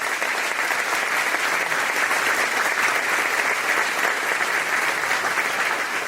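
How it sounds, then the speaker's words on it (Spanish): Church congregation breaks into loud, sustained applause, a dense even wash of clapping from many hands that holds steady without a break. "Fuerte ese aplauso al Rey de Reyes."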